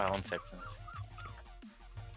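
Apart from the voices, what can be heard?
seagulls calling in the background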